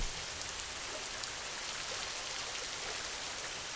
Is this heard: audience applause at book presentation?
no